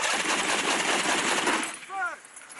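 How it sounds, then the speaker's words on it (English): Mark 19 40mm automatic grenade launchers and .50 caliber heavy machine guns fire on a live-fire range at Mount Bundy Training Area, Australia, a dense loud roar of continuous automatic fire that cuts off near the end, followed by a brief voice. "fire Mark 19 40mm automatic grenade launchers and M250 caliber heavy machine guns at Mount Bundy Training Area, Australia"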